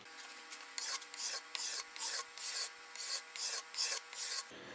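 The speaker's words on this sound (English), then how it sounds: "I'm just doing a little card scraping on here just to kind of clean up the surface" A hand card scraper drawn repeatedly across a walnut workbench board, about nine steady rasping strokes in even rhythm, close and fairly quiet with no talk.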